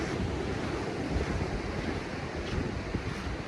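Waves breaking on a windy beach in Kintyre, a continuous roar of surf mixed with gusty wind buffeting the microphone, steady and close with no talking.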